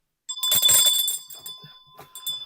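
A bell rings once in a bright, sustained strike whose clear tones linger and slowly fade, with no one talking over it.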